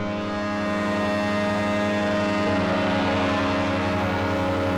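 A Sequential Trigon 6 synthesizer drones with heavy distortion applied, a dense, buzzing sustained tone that holds loud and steady throughout with no voices.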